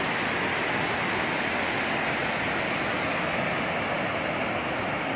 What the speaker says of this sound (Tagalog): kailangan magpapalabas ng tubig ang Magat Dam